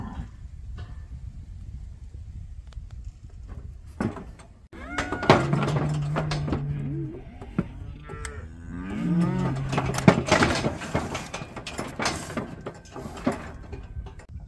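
Cows moo loudly and repeatedly during calf weaning, a mother calling for her calf amid working-pen clatter, with several long drawn-out bellows in the middle and quieter rustling before them.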